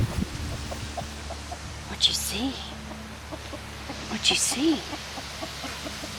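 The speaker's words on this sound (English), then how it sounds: "You see the chickens?" Chickens cluck outdoors in a few brief calls heard at moderate distance, with a person talking over them throughout.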